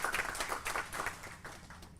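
An audience at a business event applauds Ruth Aminu, the chairperson of ZPay UK, with a faint, distant round of scattered clapping that tapers off toward the end.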